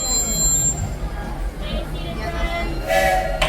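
The Walt Disney World Railroad steam train rolls into Frontierland Station at Magic Kingdom with low rumbling and clanking, a sharp whistle-like burst near the end, and a voice murmuring faintly underneath.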